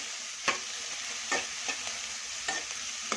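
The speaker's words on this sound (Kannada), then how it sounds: "ಇದಕ್ಕೆ ಫ್ರೈ ಮಾಡ್ತಾಯಿದ್ದೀನಿ. ಎಣ್ಣೆಲ್ಲೇ ಬಾಡಿಸ್ಕೋಬೇಕಿದು." Fenugreek leaves and ginger fry in hot oil for a fish curry, giving a continuous bright sizzle broken by several louder scraping stirs, close and with no talk.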